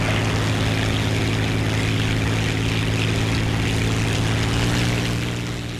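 Steady droning propeller aircraft engine in the War Thunder combat flight game, a loud continuous hum with strong low harmonic tones and a broad airy roar, holding constant throughout with no talk.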